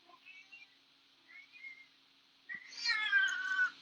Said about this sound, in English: Maya is a beautiful cat.